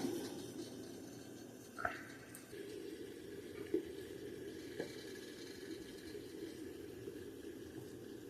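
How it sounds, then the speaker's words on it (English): Water at a steady boil in a makeshift double boiler with mint chips melting above, a soft continuous bubbling hiss with an occasional small clink or pop, faint and close. "Okay, the water's boiling."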